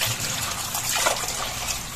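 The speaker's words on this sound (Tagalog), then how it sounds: "Yan mga kabayabas at huhugasan na po ni mama." Guavas washed by hand under running water in a home kitchen, a close, steady trickle and splash, slightly louder midway, with no talking.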